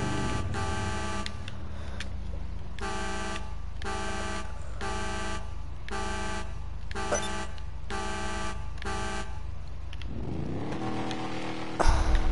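A car engine in Grand Theft Auto V revs in repeated, evenly spaced bursts with steady harmonic tones, loud and close, with no talking over it.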